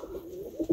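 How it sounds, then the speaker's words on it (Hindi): Fancy pigeons in a loft on a pigeon farm give soft, low coos, a couple of short rounded calls close by against quiet background. "और भी काफ़ी सारे कबूतर है"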